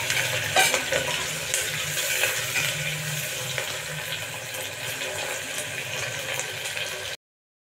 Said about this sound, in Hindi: एक बार चला देंगे और प्याज को ब्राउन होने तक भून लेंगे।